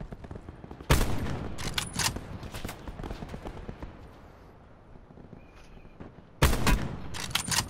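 Sniper rifle gunfire in a first-person shooter video game: two loud, sharp cracks about five seconds apart, each followed by a cluster of rapid echoing reports, with quieter distant shots and scattered clatter in between.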